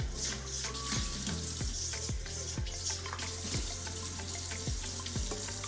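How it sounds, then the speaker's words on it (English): Tap water running into a bowl as it is rinsed out after straining oat milk, a steady splashing stream punctuated by repeated low knocks and sloshes at roughly regular intervals. "I'm going to rinse out this bowl."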